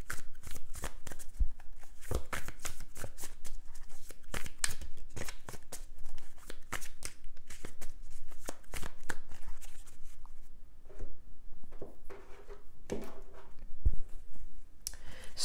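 Tarot cards are shuffled close up in a dense, continuous run of riffling clicks and soft slaps, easing off briefly near the end before picking up again.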